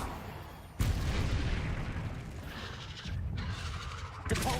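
Heavy, booming spell blasts from the Confringo spell in Hogwarts Legacy, with a sharp explosive onset followed by a long rumbling roar and a second blast near the end.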